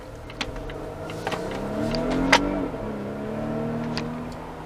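A 2020 Volvo S90 T6 AWD sedan accelerating hard from inside the cabin, its engine note climbing steadily in pitch, a gear change, then pulling again at a moderate level without talk.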